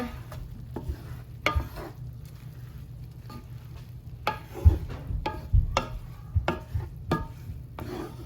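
A spoon stirs broccoli, rice and sausage in a pan, giving irregular scraping clacks and soft pattering knocks that come in bursts over a quiet background with faint sizzling.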